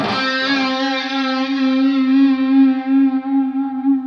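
A single sustained electric guitar note with a wide, slow vibrato bending the pitch up and down, processed with effects and ringing clearly alone.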